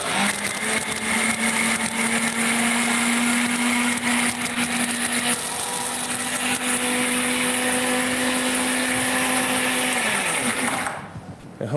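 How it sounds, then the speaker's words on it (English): A blender whirs loudly and steadily for about ten seconds, blending a dip with a sustained motor hum, then winds down and stops near the end. "And we'll just blend that up."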